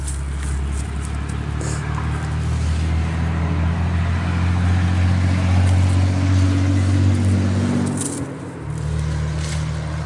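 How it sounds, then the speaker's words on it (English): A car or truck passes on a nearby road, a loud steady engine and tyre rumble that swells to a peak and then dips as it moves away, with no talk. "I think there's been a vehicle go by every time we turn the camera on."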